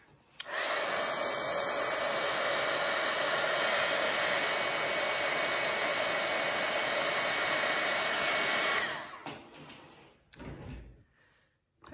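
A hair dryer roars close and steady for about eight seconds while it dries wet paint on a painting, then cuts off, followed by a few clunks and rustles of handling.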